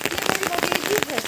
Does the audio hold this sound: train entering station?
no